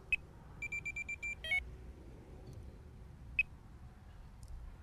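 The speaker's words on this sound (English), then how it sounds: "just activate the first buzzer" A Delkim fishing bite alarm beeps in a quick run of high, electronic tones, followed by a garbled burst and later a lone beep, set against quiet background noise.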